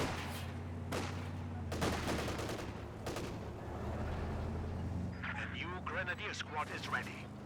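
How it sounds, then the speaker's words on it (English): An MG42 machine gun in Company of Heroes 2 lets off a few sharp bursts amid battlefield rumble and distant explosions, while a commentator talks over the action. "MG42 pretty far forward, firing away"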